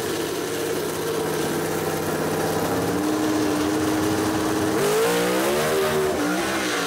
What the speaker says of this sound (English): A little bit of tire spin for Christopher as he leaves the line right there.